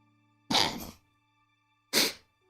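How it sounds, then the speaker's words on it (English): A half-held-in sneeze comes twice in a quiet room, two sharp, muffled bursts about a second and a half apart, close by with no talk. "That was a weird sneeze."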